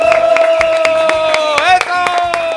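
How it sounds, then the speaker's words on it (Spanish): At the start of a stage show, rhythmic clapping in time with loud music, sharp regular beats over a sustained melodic tone, with brief vocal sounds. "¡Aplauso!"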